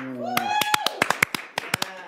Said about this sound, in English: Slow clap.